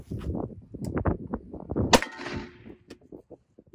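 A .50 Beowulf rifle fired outdoors at a stack of pavers during a penetration test, one sharp loud crack near the middle with a short ringing tail, following a stretch of low voices and movement.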